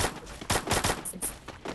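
Gunfire in the Free Fire Max battle royale game, a rapid series of sharp in-game gunshots in quick bursts, loud and close, with no talk.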